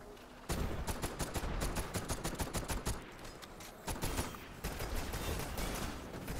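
Rapid automatic gunfire in the shooter game Destiny, dense loud bursts of rattling shots with short pauses, continuing throughout at close range.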